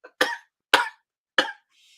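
Three harsh, loud coughs burst out close to the mic at roughly half-second intervals, each cut short with silence between, followed by a faint breathy trail.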